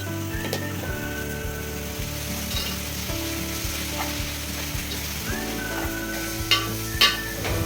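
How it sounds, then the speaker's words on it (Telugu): Chopped drumstick leaves fry in oil in a deep pan, making a dense, rain-like crackle and hiss, close and steady, with a few louder pops and utensil clinks near the end; no voices. "ఒక డేక్షాలో ఆయిల్ తీసుకోవాలి. మనం కట్ చేసుకున్న మునగాకంతా వేసుకొని బాగా ఫ్రై చేసుకోవాలండి."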